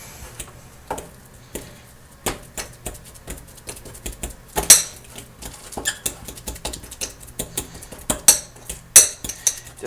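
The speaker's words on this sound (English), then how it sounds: "you just take your spoon and you just mash it up" A spoon mashing a banana in a bowl, giving a close series of irregular soft squishes and sharp scraping taps with no voices.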